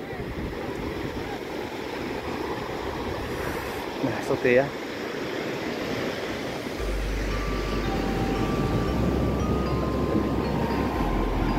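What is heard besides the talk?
ocean waves on a beach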